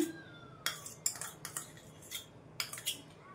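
A metal spoon stirs ghee into a flax seed laddu mixture in a steel bowl, making a run of sharp, close clinks and scrapes at irregular intervals with quiet gaps between strikes.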